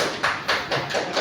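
A small group clapping for elementary school children in a classroom, about five separate sharp claps in an uneven rhythm, close and fairly loud.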